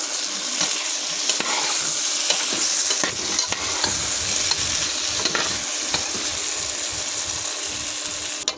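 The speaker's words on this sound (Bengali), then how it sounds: "এবার আমি নেড়ে দেবো।" A spatula stirs potato and eggplant curry with ginger-cumin paste in a hot pan, producing a loud, continuous sizzle broken by repeated scraping strokes, with no voices.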